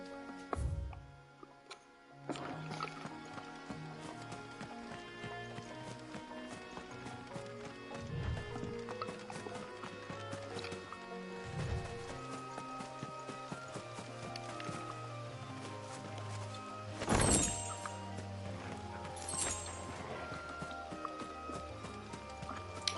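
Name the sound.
horse hooves clip-clopping in video game Final Fantasy XVI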